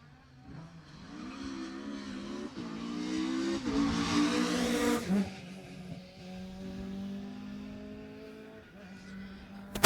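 A rally car at the 2018 Jersey Rally sweeps past close by, its engine rising to a loud revving peak and then dropping away in pitch, with a strong mid-range drone that lingers as it pulls off.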